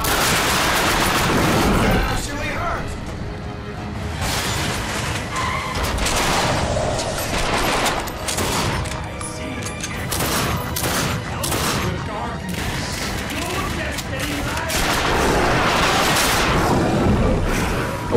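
Rapid gunfire from the video game The Darkness 2, dense bursts of automatic shots and booms filling the whole stretch, loud and nearly continuous with brief lulls, while a voice speaks over the action.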